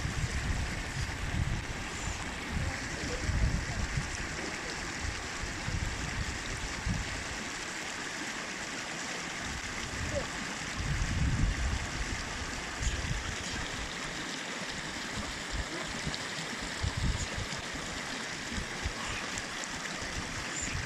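Mountain stream rushing beneath the Shatung Nala bridge in Deosai National Park, a steady broadband wash of flowing water with faint wind, no voices.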